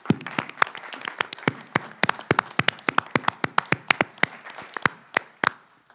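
Scattered applause from a small audience at a university Board of Curators meeting, sparse individual hand claps ringing out at an uneven pace in a room, thinning toward the end.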